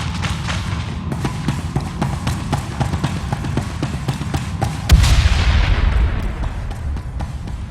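A weapon fires in rapid, repeated sharp bursts, loud and close, with a heavier booming blast about midway before the volley carries on.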